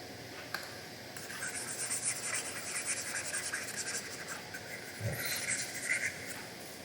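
Pen or marker scratching on a board while a math formula is written out, soft continuous scraping strokes with brief pauses and a light tap, no talking.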